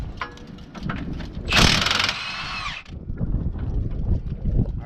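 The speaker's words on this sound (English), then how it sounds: "I'm just going to take the impact, and that one's out, easy enough" An impact wrench on a 2005 Toyota Camry removes a rear strut bolt with one loud, close rattling burst lasting about a second, set among quieter clanks and shop noise.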